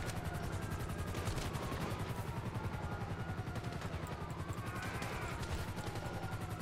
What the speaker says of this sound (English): I hear a bunch of gunfire.